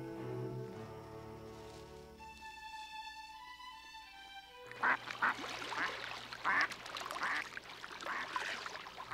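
Mallard ducks quack repeatedly in a raspy chorus after a stretch of music, the calls loud and close with splashy water texture behind them.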